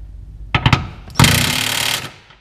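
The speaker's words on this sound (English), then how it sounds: "We'll give it a try with this little weak Ryobi first." A small Ryobi power tool straining to drive a bolt for a driveshaft safety loop on a 2013 Mustang GT: two quick close rattling bursts, then a longer loud impact-like buzz of about a second that cuts off.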